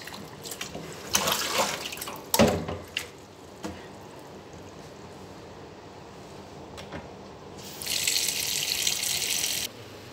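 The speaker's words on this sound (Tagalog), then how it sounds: "Ito ngayon, huhugasan ko ng maigi." Periwinkle and tawa-tawa herbs are washed under a running kitchen tap, with bursts of splashing water, a few knocks and clatters, and a final stretch of steady hissing flow, all close and fairly quiet.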